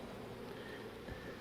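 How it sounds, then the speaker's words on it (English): Honey bees buzz around an open brood box of a touchy hive that needs requeening. The sound is a faint, continuous low drone with a brief louder pass near the end. "Bit touchy, these bees, they need to be requeened."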